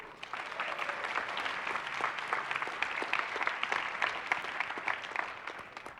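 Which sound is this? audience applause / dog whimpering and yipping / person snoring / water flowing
audience applause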